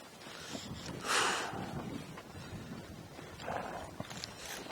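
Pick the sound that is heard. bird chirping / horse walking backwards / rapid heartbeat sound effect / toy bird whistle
horse walking backwards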